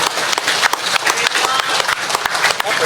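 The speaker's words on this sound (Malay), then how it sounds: "Tepukan gemuruh buat beliau." Thunderous applause from a crowd at a Selangor political rally for a candidate, dense and loud clapping filling the whole stretch with faint voices mixed in.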